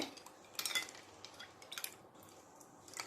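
Ice cubes stirred into pakora batter in a bowl, giving soft, irregular clinks and scrapes of a spoon against the dish, faint and close, with brief clusters of rattling between quieter moments.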